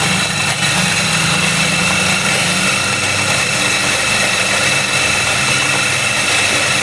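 A kilo-capacity coffee grinding machine running steadily, a loud continuous motor drone with a constant mechanical hum and no break throughout.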